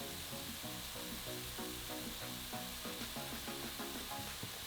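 Egg-rito filling frying with garlic powder, red pepper and paprika, a steady, fairly quiet sizzle with a faint rhythmic stirring pattern throughout and no talking.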